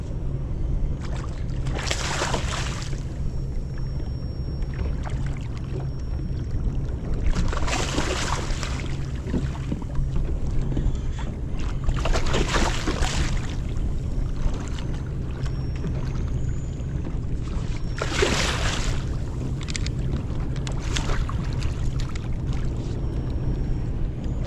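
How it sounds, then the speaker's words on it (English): Steady wind noise and low rumble on open water from a fishing boat, with gusty broadband swells returning every few seconds, loud and continuous throughout. "That wind's cooking."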